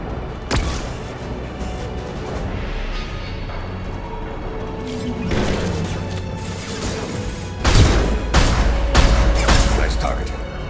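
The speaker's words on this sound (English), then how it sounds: "Watch out! Flashbangs!" Flashbang grenades go off amid gunfire in a Mass Effect firefight, with several sharp bangs and crashes, the loudest cluster late, over a steady din of battle and game voices.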